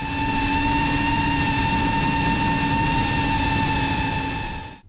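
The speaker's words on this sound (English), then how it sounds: "This drone is definitely not as noisy as the competition" A GepRC CineLog 35HD cinewhoop drone with 2004 motors on 6S power hums in a steady, continuous whine with a strong tonal drone and broadband rush. It stays close and loud throughout, with no talking.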